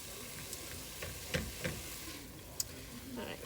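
Onion, celery and other vegetables sautéing in a pan, a steady soft sizzle with a few faint clicks and taps of a utensil, fairly quiet and continuous.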